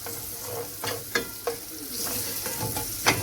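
Onions frying in a pot while making peanut stew, a steady close sizzle broken by a few sharp stirring scrapes and clinks, with no talking.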